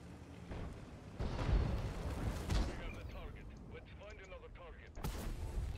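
Heavy booming cannon shots from German tanks in a video game, a couple of deep blasts with rumbling tails amid battle noise and faint mechanical clatter, a voice talking over parts of it.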